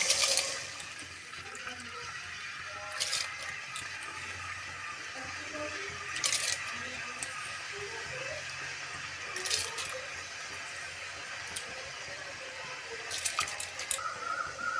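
Washed rice has water shaken off it before going into a pot of boiling water with whole spices, heard as a low bubbling wash with recurring splashy bursts and faint clinks.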